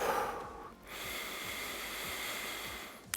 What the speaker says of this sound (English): go ahead and take a deep breath in again. Breathe in.